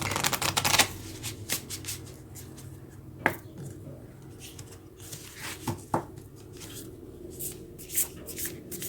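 Moonology oracle cards are shuffled by hand up close, with quick repeated riffling bursts and soft slaps in an uneven rhythm, no voices heard.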